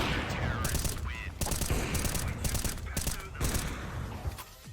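Rapid gunfire in Counter-Strike 2: repeated loud bursts of shots fire in quick succession over a busy game background, with some voice activity mixed in.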